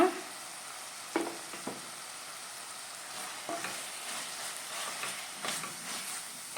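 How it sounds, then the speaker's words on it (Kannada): Coarsely ground spice powder frying in a pan for Chettinad chicken saru, a soft steady sizzle with a few sharp scraping strokes of stirring spaced through it, fairly quiet and close, no voices. "ಇದನ್ನು ಹಾಕ್ಕೊಂಡು ಫ್ರೈ ಮಾಡ್ಕೊಳ್ಳೋಣ"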